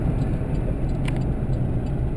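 A car pulls out onto Route 7, a curvy little road in Kentucky, with a steady mid-level engine hum and road rumble throughout, no breaks or talking.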